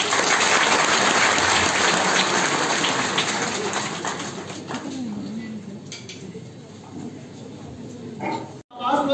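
Sustained audience applause at a university panel dialogue on media freedom in Islamabad, loud and dense at first, thinning gradually toward the end, with some talk mixed in.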